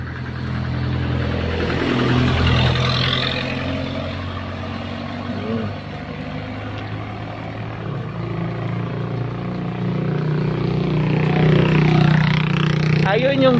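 A motor vehicle comes up from behind on a rural road and passes, its engine swelling, fading, then rising again, while people talk in Tagalog over it.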